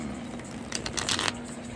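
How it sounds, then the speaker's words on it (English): Tarot cards being shuffled, a brief riffling burst in the middle of the moment, close and clear against a quiet room hum. "Let me get some shuffles in here. These cards ain't want to shuffle right."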